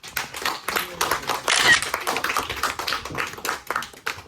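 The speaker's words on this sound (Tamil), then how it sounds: "ஸோ உங்கள் எல்லாத்துக்குமே வந்து ஒரு பெரிய கைத்தட்டு." Audience clapping at a Tamil community chess tournament awards ceremony, brisk irregular hand claps close by with some voices mixed in.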